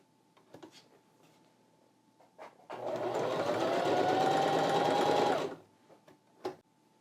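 A sewing machine with its needle tension set very high runs in one steady, loud burst of stitching for about three seconds, with faint handling clicks before and after.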